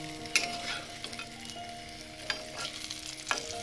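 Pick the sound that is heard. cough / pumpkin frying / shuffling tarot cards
pumpkin frying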